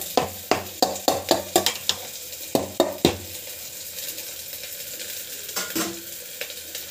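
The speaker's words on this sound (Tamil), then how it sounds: "கடலைப்பருப்பு வந்து போட்டுக்கலாம். நல்லா வந்து வதக்கிட்டுக்கோங்க." Chana dal sautéed in a pan, with a quick series of sharp spatula knocks and scrapes against the metal over a low sizzle, pausing and then returning more sparsely.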